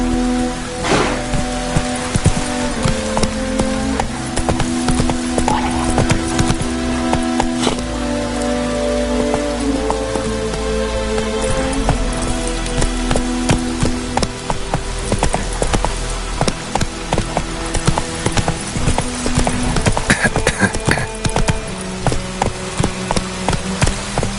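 In The Witcher 3 video game, a horse's hooves clatter over steady rain falling on surfaces, with sustained music tones layered throughout.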